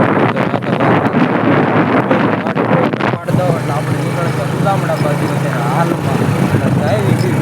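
Heavy wind buffeting roars across a microphone on a motorbike heading out onto a village road, loud and continuous, then settling into a steadier rush with a low engine hum underneath.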